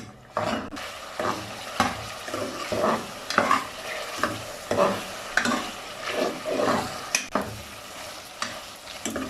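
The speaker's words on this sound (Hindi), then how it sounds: "दो चम्मच ऑयल डालेंगे, तो अच्छे तरीके से भून लेंगे" Chicken with onion and tomato sizzles in two spoons of oil in a pot, stirred with a spoon that scrapes in a repeated rhythm over a steady close frying hiss.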